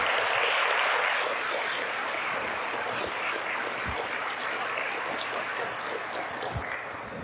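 Steady applause from a sizable audience, dense and even, clapping continuously throughout with no speech over it.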